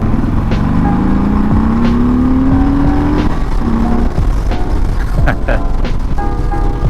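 A 2021 Harley-Davidson Sport Glide motorcycle accelerates on a test ride, engine pitch rising steadily through a gear before shifting, loud and close with wind noise throughout.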